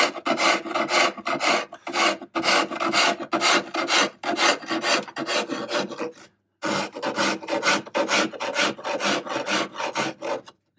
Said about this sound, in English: I need to attack it with the rasp